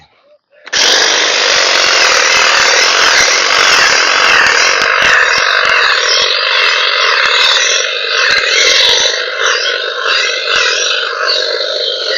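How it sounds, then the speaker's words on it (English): A string trimmer with a dull blade whines steadily and loudly for about twelve seconds as it cuts weeds near beehives, starting abruptly after a brief quiet and holding a dense, buzzing drone. "My blade on this trimmer's dull."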